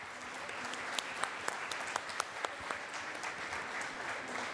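Loud, sustained applause from a large audience at a mining and metals fair in Colombia, thanking the Senate and Chamber commissions, with dense continuous clapping and a few sharper claps standing out.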